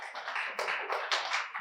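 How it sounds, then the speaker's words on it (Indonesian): A church congregation claps during a Sunday sermon to cheer a correct answer. A brief burst of close, uneven clapping comes in several surges with no speech over it. "Tepuk tangan, saudara."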